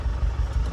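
A Chevrolet D20 pickup with a straight exhaust and 33x12.5 tyres rumbles close by in a deep, throaty, continuous roar that pulses slightly as the engine revs.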